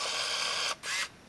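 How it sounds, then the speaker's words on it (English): An Olympus Infinity Stylus compact film camera fires its shutter with a close, crisp mechanical whir, a short pause, then a second brief whirring burst as the mechanism completes. "So here we are going to watch and see the lens extend and the shutter go off."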